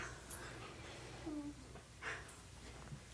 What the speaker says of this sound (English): My dog's making noises.